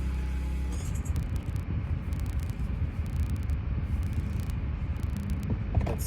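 An Audi B8 S4 with the 3.0T engine and a stage 1 tune on the move, heard as a steady low rumble of engine and road noise from inside the cabin, with no talking.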